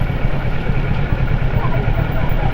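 A Kawasaki Ninja 650 motorcycle engine idles in busy traffic, a steady low rumble throughout with crowd and traffic noise close around it.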